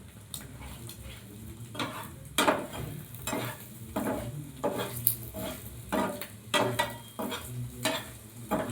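Egg paratha frying on a tawa over a gas flame, a soft, quiet sizzle punctuated by a regular series of spatula scrapes and clinks against the pan.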